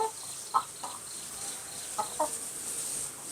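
A small backyard flock of about ten egg-laying hens gives a few soft, scattered clucks at moderate distance over a steady hiss of outdoor background noise.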